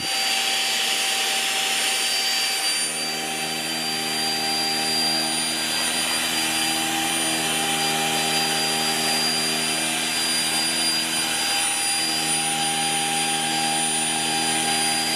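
A Xiaomi Deerma vacuum cleaner runs steadily and fairly loudly, a constant motor whine with strong tonal hum that shifts slightly in pitch partway through, without speech.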